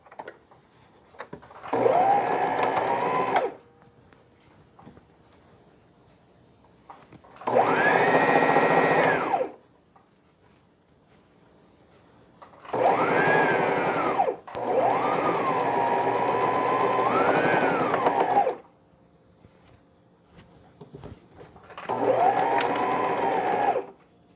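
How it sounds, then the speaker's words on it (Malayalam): A sewing machine stitches the back piece of a newborn frock in four separate runs of steady mechanical whirring, each a few seconds long. The runs are loud and close, with quiet gaps between them. "ഇനി ബാക്ക് പീസും ഇതിനോട് ചേർത്ത് സ്റ്റിച്ച് ചെയ്യാം."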